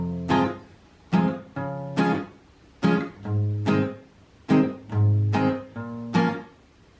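Acoustic guitar strums the chorus of a song in a steady pattern of short, bright chord hits and brief ringing swells, close and clear with no voices.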